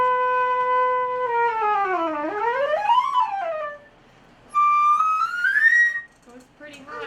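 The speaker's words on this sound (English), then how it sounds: "Piccolo goes really high" A piccolo plays high sliding notes: a bright, pure tone bends down and swoops up, pauses, then returns with another rising phrase, close and fairly loud.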